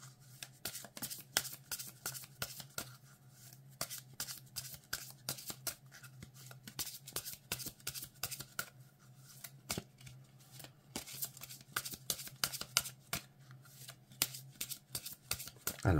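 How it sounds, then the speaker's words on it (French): A deck of oracle cards is shuffled by hand in a steady run of quick, crisp riffling clicks, close and fairly quiet, continuing without pause and with no talking. "je vais battre les cartes"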